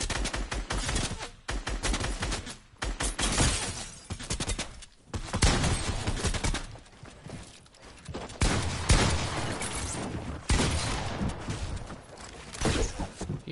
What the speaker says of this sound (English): I hit you with a shotgun.